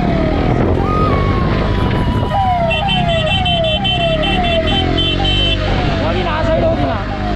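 An ambulance siren wails in rising and falling sweeps through heavy Bangalore traffic. Engine and road roar sit loud and constant beneath it, and a voice talks over parts of it.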